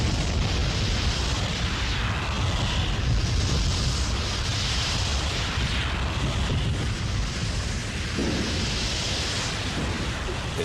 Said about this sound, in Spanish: expulsa piedras, cenizas y gases por medio de explosiones que producen el ruido de los truenos